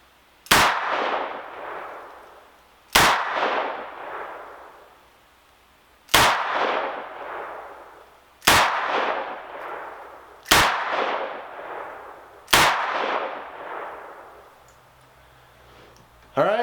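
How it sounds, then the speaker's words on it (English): A stainless Taurus M44 .44 Magnum revolver with an 8-3/8 inch barrel fires six loud double-action shots outdoors, each a sharp blast with a ringing decay, spaced two to three seconds apart. "I'm going to do these double action. It's going to be a lot longer, harder trigger pull"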